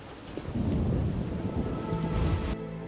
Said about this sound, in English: Rains and it pours. Hasn't rained hard in a while.